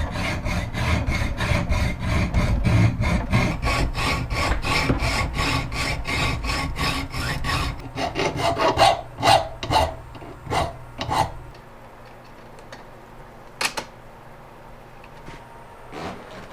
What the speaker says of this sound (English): my grinder does throw a little bit of stuff around, but I'm just cutting 2 corners off of aluminum